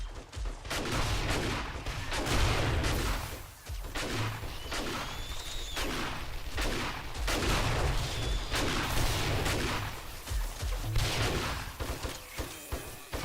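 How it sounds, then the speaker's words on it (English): Rockets fired in 7 Days to Die boom out repeatedly, loud and close, a string of heavy blasts at irregular intervals with rumbling tails that fill the whole stretch. "Getting the rockets out now."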